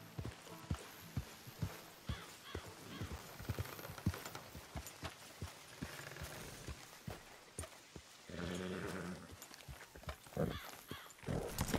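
Horse in the video game Red Dead Redemption 2, hooves clip-clopping in a steady walking rhythm at close range, with a brief louder rustle partway through and no speech.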